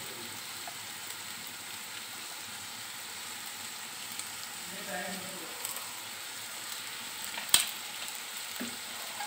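Food sizzles softly in a pan over low heat after soy sauce and vinegar are added, a steady faint frying hiss with a brief stirring clatter near the end.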